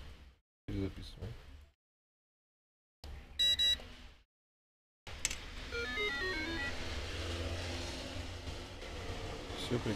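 An RFID 125 kHz EM4100 intercom key duplicator beeps while rewriting a key. A short sharp beep comes mid-clip, then a longer run of stepped electronic tones plays over steady background noise, with brief talk earlier.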